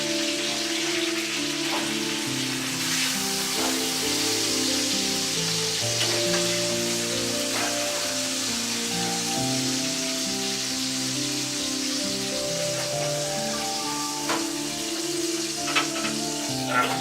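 Steady sizzling of stuffed burgers frying in a pan, loud and close, with a musical tone running underneath throughout.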